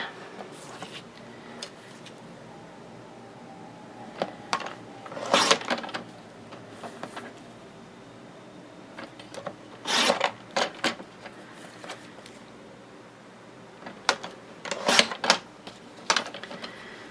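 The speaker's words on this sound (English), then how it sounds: "I'm going to trim my panel right now, and I'm just going to take off just a teeny smidge from each side" A paper card panel being trimmed, with a blade sliding along a trimmer in a few distinct raspy swipes separated by quiet pauses. The cuts sound near and moderately loud, with no voices.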